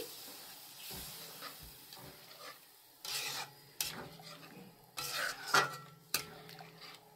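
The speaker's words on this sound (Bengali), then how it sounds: "ব্যাস দিয়ে ভালো করে মিক্স করে নিচ্ছি" A utensil stirs and scrapes through a doi rui curry mixture in a pan after water is added, with intermittent clinks against the metal and rasping strokes, close and fairly quiet, coming in irregular bursts.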